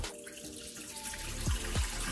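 Tap water runs steadily into a sink while eggplant is rinsed during Dominican-style stewed eggplant prep, a close continuous splash with a couple of brief knocks near the end.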